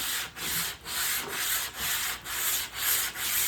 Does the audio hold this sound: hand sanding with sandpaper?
yes